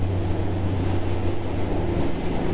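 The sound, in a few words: Dale Classic 37 motor boat ploughing through choppy sea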